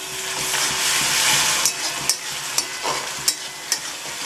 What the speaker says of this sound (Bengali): মশলাগুলো সব দিয়ে দিলাম, দিয়ে নাড়িয়ে নিচ্ছি।